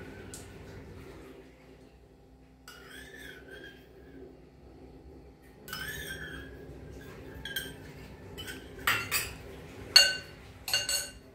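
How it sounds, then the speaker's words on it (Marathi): Ice cubes drop into a glass of spiced buttermilk, giving a series of sharp clinks and taps that grow louder and more frequent toward the end over a faint background. "ह्याच्यात बर्फाचे तुकडे टाकते,"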